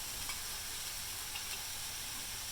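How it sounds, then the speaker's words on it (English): Potatoes and garlic cook in a pot for pot pie, giving a steady, soft sizzle and hiss with faint stirring scrapes, continuous and fairly quiet throughout. "Now that it's cooking, you can add 2 tablespoons of garlic."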